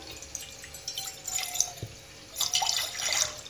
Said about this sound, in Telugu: దాంట్లోకి కొంచెం వాటర్ వేద్దాము